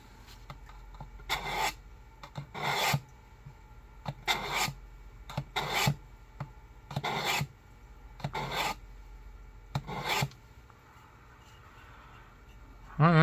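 A bread knife drawn through a carbide sharpener, seven or eight loud rasping strokes in a steady rhythm close up, with a brief voice at the very end.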